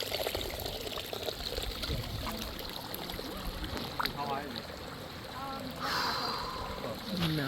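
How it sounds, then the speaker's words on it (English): Natural mountain stream flowing down among trees, a continuous wash of splashing water under intermittent talk nearby. "So the natural water coming down."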